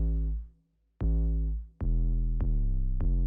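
Deep 808 bass from an emo rap beat, sustained notes with long sliding tails and four sharp re-triggered hits, loud and alone with no voices.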